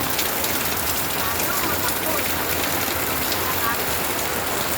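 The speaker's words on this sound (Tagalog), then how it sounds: "Tuloy-tuloy pa rin ang ulan, Diyos ko." Typhoon Kristine drives a steady downpour in the Philippines, a thick constant roar of rain drumming on surfaces, close and even throughout.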